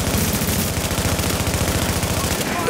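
Rapid machine-gun fire from a video game battle as a fortification comes under attack, a loud, steady rattle of closely spaced shots with no break from start to finish.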